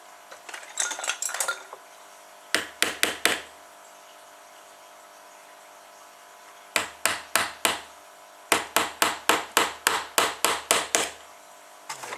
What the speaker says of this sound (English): I'm just going to hammer it into this pulley here.